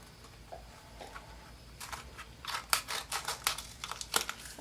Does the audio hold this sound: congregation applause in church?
no